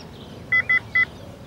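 Three short, evenly spaced touch-tone dialing beeps from a telephone, clear and close, heard over a low background hum with no speech.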